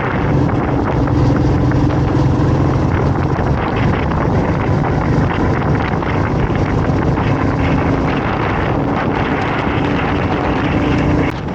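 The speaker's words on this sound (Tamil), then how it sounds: "அந்த அளவுக்கு காத்து அடிச்சிட்டு இருக்கு" Strong wind roars steadily and loudly across the microphone on a scenic road trip near Rameshwaram and Dhanushkodi, a constant buffeting rush with no break for the whole stretch.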